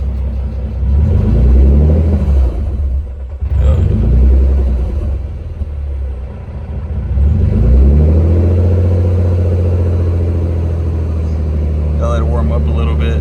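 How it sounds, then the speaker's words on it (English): A Nissan 300ZX engine, running without its idle air control valve, rumbles roughly just after startup, a loud low uneven idle that surges and dips, with someone talking over it. "I'll let it warm up a little bit now that we don't have the idle air control valve. The startup's a little rough"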